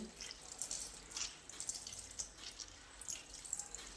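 Faint water drips and trickles from squeezed boiled spinach, several irregular small splashes falling in quick succession at a quiet level, with no voices.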